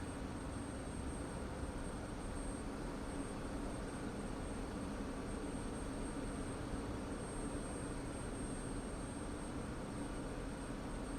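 An F-16 jet engine spooling up during startup in the DCS flight simulator, a steady broadband roar and whine holding at an even level throughout with no speech.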